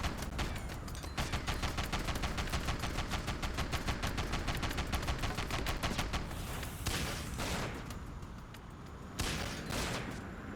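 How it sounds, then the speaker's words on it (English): Rapid-fire bursts from a cluster launcher in the video game Sand Land, a dense rattling volley of many quick shots for about six seconds, then looser scattered blasts and whooshing hits that fade and return. "I like that cluster launcher. It's just a fletchet missile."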